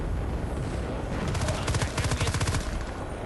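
Burst-fire assault rifle shots in a military shooter game, rapid clustered bursts of sharp cracks over continuous battlefield noise, fairly near and moderately loud.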